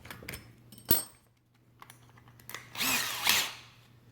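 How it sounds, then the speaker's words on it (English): A power drill with a larger bit bores a hole while fitting soft-close undermount drawer slides, giving a few short bursts and one longer whirring run with a bright grinding edge, between quiet pauses and small handling knocks. "you'll be using the larger drill bit for this."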